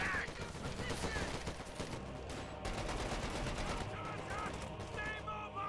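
Machine gun fire in the World War II strategy game Company of Heroes 2 chatters as a suppressing stream against Sturm Pioneers, fairly quiet and steady, mixed with scattered battlefield noise and speech.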